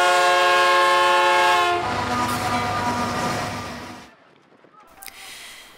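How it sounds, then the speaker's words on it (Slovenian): A departing train sounds a long, loud whistle with steady harmonic tones for about two seconds, followed by rumbling rail noise that fades as it pulls away, ending in quiet with a faint higher squeal near the close. "In vlak je odpiskal na drugi konec Slovenije."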